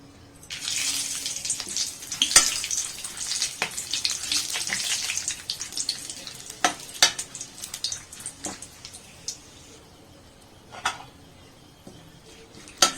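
Bay leaves with whole cloves, cardamom and cinnamon sizzle in hot oil in a pan while cooking Assamese-style duck with ash gourd, a steady close frying hiss broken by scattered clinks and scrapes of stirring, with no talk.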